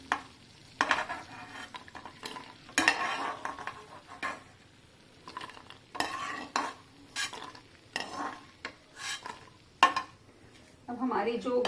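Fox nuts (makhana) being stirred while they roast in a pan for panjiri, giving repeated scraping and rattling strokes of a utensil against the pan, with soft light sizzling between them.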